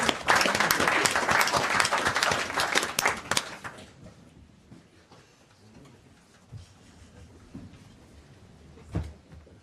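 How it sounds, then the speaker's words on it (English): An audience at a city council meeting breaks into dense applause that fades after about four seconds, followed by a quiet room with a few scattered knocks and shuffles. "Give them a round of applause."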